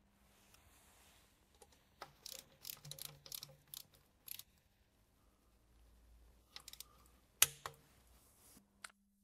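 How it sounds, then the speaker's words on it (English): Screws on an Audi S-Tronic automatic transmission oil pan being tightened with a wrench in a crisscross pattern, heard as quiet, scattered metallic clicks and short ratcheting bursts with pauses between them. "We will now securely tighten them in a crisscross pattern with 10 Newton meters per screw."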